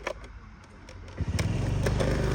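A Honda Dio AF57 scooter engine cranks briefly and then catches, settling into a steady, close putter that grows louder toward the end.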